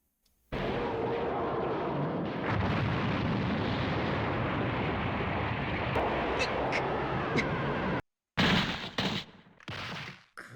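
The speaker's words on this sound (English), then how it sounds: "I decided on an actual explosion" A loud, sustained explosion sound effect for Nappa blowing up, a continuous roaring rumble that lasts about eight seconds, cuts out, then returns as short louder bursts.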